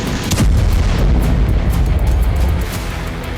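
A Russian missile strikes an apartment building in Kharkiv, giving a loud, close boom followed by a heavy rumbling roar that slowly fades, with no talking.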